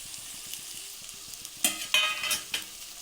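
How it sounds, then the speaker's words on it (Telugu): Eggs go into a sizzling Andhra egg curry, gudlu pulusu, with a quiet simmer giving way to a few sudden bursts of crackling sizzle near the end, close by, without speech. "ఇప్పుడు ఇందులోని ఎగ్స్ వేసేసుకుందాము"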